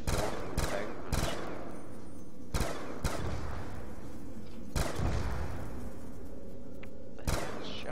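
Gunfire from a gun in Call of Duty Black Ops II Zombies on the Town map, scattered sharp shots in irregular bursts with booming tails over a low game backdrop.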